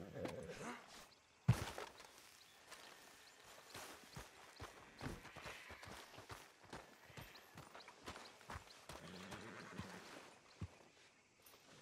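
Horse hooves in Red Dead Redemption 2 clip-clop faintly at an unhurried walk, with a sharp knock near the start and soft scuffs throughout.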